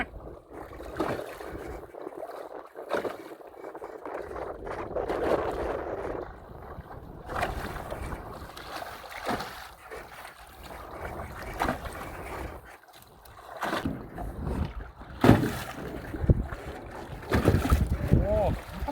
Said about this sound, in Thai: ลมก็เริ่มมาด้วยแล้วครับตอนนี้